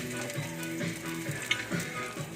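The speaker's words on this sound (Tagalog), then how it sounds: "Lagyan ng bawang para ginisa siya guys" Garlic sautés in a pan before mussels go in, a steady close sizzle and frying crackle with faint stirring clatter throughout.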